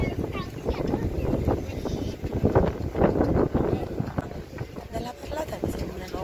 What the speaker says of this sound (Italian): ma il vento è tanto, quindi penso sia un paradiso per fare windsurf